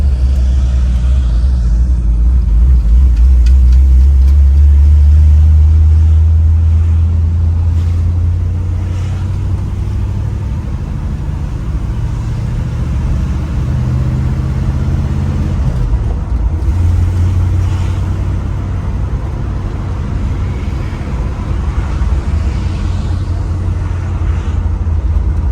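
A 1957 Chevrolet 210 Hard Top with a manual stick shift drives along, its engine a steady deep rumble that swells loud early on, then settles into a continuous drone heard from inside the car.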